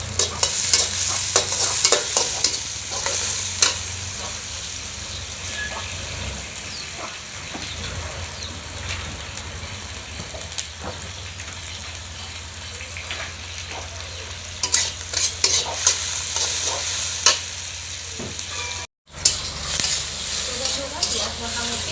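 Onions frying with a little salt in a pan, a steady broadband sizzle with occasional stirring scrapes throughout, close and fairly loud, with a brief dropout near the end.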